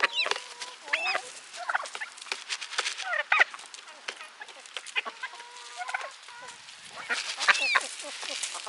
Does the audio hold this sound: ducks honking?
yes